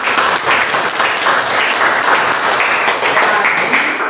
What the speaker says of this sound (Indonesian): Ya, kita tepuk tangan buat kelompok ini. Tepuk tangan berdiri.